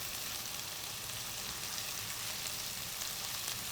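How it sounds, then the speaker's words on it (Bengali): Onion sautéing in a pan with green chillies, a soft, even, continuous sizzle heard close up with no voices. "জি, আমার পেঁয়াজটা একটু সতে হয়ে গেছে।"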